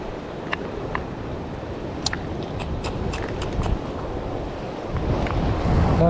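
Strong wind roars across an open fishing spot by the water, a steady broadband rush buffeting the microphone and building louder toward the end, with faint waves and occasional small clicks underneath.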